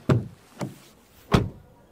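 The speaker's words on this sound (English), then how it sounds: "So this is a good door closing sound now." A Volkswagen ID. Buzz GTX van door shuts with three solid thumps. The first and last are the strongest and sit close and clear against a quiet background.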